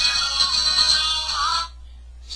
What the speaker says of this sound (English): I'll have that ringtone.